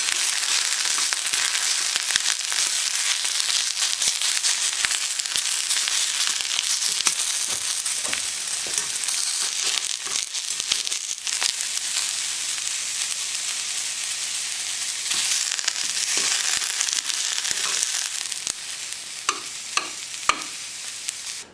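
Hosta shoots sizzle in butter in a frying pan, a steady, fairly quiet hiss with scattered pops and occasional stirring scrapes throughout.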